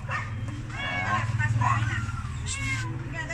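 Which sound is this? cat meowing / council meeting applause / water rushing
cat meowing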